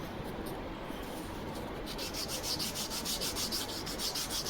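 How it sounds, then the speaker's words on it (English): Fine new sandpaper rubbed with gentle pressure along the edge of a balsa wood part for a static model, a steady close scratchy rasp that settles into even rhythmic back-and-forth strokes. "Use good quality new sandpaper."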